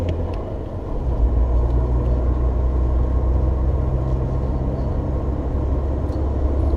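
Truck engine rumbling steadily through normal gear upshifts, a continuous loud low drone with no talking over it.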